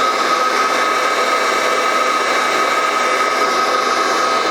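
A Fresh Roast SR800 home coffee roaster blows hot air with a steady, loud, even whoosh that holds unchanged throughout, with no voices.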